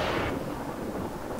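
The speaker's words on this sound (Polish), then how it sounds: "To może zrobimy grzmot." A low rumbling thunder effect from the game Ghost Master, one broad crash fading into a rolling rumble, heard alone without talk.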